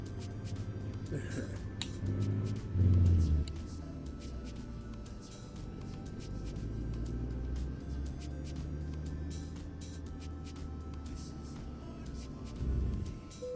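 Video game truck engine rumbling low and steady under someone talking, with a brief louder surge near the start and again at the end.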